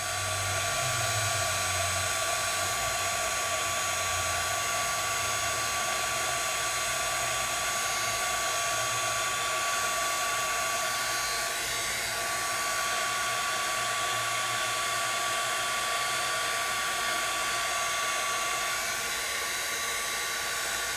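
A heat tool on low heat blows steadily over shrink plastic at a craft table, a continuous close whirring rush that holds level for the whole stretch with no talk.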